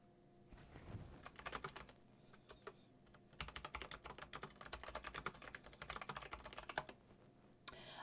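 Clacky mechanical keys of a retro-style keyboard tapped in quick irregular bursts, close and crisp, with short pauses between runs of typing.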